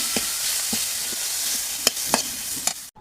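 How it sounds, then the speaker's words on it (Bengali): Radish greens frying in a pan with chillies and onions, a steady sizzle with a few sharp stirring clinks and scrapes spaced through it. "আমার মরিচ পেঁয়াজগুলো ভাজা হয়ে গেছে, এখন শাকগুলো দিয়ে দেব।"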